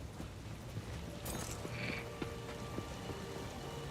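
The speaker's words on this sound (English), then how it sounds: "Froggies." Frogs croak in Path of Exile 2, a soft, steady chorus of short repeated croaks set among rain-like ambient game sounds.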